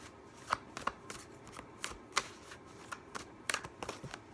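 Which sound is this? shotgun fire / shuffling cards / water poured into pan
shuffling cards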